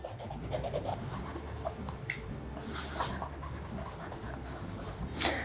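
Wax being rubbed onto leather shoes with a cloth or applicator, a steady close-up scratchy rubbing with short brushing strokes, heard on its own with no talking.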